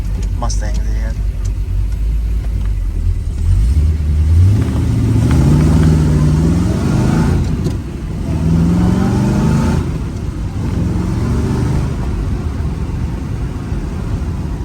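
A 1969 Chevrolet Corvette convertible with a big-block V8 and four-speed manual accelerates through its gears, its engine note rising and falling steadily and loudly under continuous talk.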